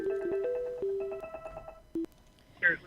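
A telephone rings on a radio call-in line, with a short run of electronic ringtone tones followed by a clipped beep and a brief burst of noise, sounding fairly close and clear.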